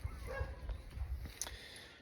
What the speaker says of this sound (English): That's Stevie, my dog, in the background. He's just seen a horse.